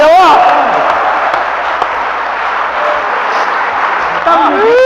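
Steady dense crowd noise, consistent with a Hindi comedy poetry audience clapping and cheering, sustained and loud for the whole stretch, with a voice rising briefly near the start and end.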